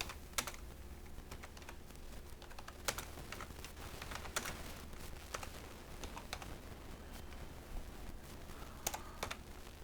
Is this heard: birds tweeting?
no